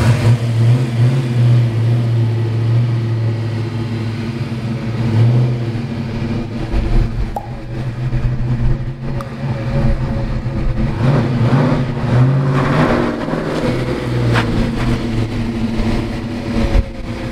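A Ford car drives at low speed during an ABS brake test, with a loud, steady engine hum and a few revving swells. Scattered clicks and rattles come through, and no one speaks.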